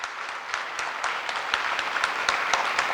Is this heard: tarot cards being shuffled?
no